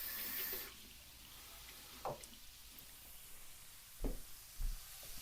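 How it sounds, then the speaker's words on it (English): Hands rinsed under a kitchen tap in a home kitchen: a brief running-water burst at the start, then faint, scattered splashes and knocks with a low background hiss. "I'm gonna rinse my hands."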